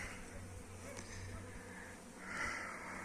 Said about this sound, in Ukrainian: Ось так літає бджола.